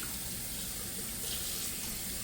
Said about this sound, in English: then turn on your water, make sure it's warm enough